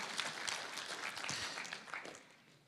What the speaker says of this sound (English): You can give John a round of applause for coming and sharing.